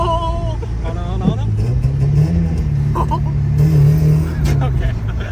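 Mazda Miata with about 100 horsepower revving up on a downshift, a loud close engine note swelling and holding steadily inside the cabin, with people talking over it.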